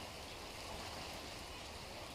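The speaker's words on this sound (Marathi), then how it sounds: "तुम्हाला दिसतोय का पाऊस झिम झिम झिम झिम चालू आहे" Soft, even patter of light drizzling rain, a faint continuous hiss with no other sounds.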